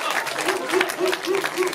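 An audience claps and cheers, a dense patter of hands with crowd voices and a repeated higher tone riding over it, fairly loud and close.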